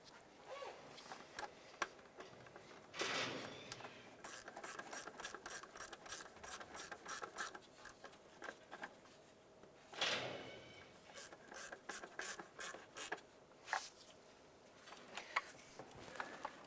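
Ratchet wrench snugging down the transmission mount bolts on a 2001-2005 Honda Civic, a close, rapid run of fine clicks in repeated bursts, with brief heavier scraping pauses between strokes.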